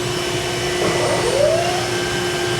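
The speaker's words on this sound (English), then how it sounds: "I'm going to start the spindle again." A Mazak machine tool spindle running, a loud steady whine with sustained tones and a rising pitch sweep partway through, heard close with no talk.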